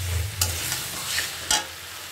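Boiled potatoes being stir-fried in a pan for a long time, giving a steady soft sizzle with a few sharp scraping stirs of a spatula, close up and with no voices.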